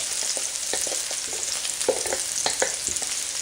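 Onions sizzle and crackle in a very hot wok, steady frying hiss dotted with sharp pops and stirring clatters, close and fairly loud, with no voices.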